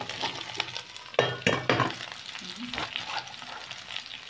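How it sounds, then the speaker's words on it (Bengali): Cauliflower pieces dropped into hot oil in a pan, a close sizzle and frying hiss broken by a few clinks and stirring scrapes of a utensil. "এখন আমি আমার ফুলকপিগুলো এটার মধ্যে দিয়ে দিব"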